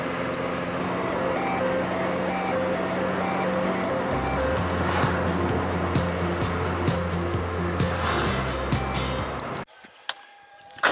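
A Lada Priora drives along the road with a steady engine hum and tyre rumble from inside the cabin, the note shifting lower partway through before the noise cuts out near the end.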